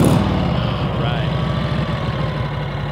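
A vintage motorcycle engine fires up and settles into a steady, even idle, close and continuous, with a quick burst at the start before the low throbbing rhythm holds.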